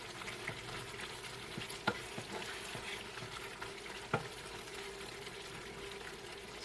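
Fresh shrimp paste being stirred into Bicol Express in a pan, with a steady low sizzle and soft scraping of the spoon, two sharper knocks against the pan standing out.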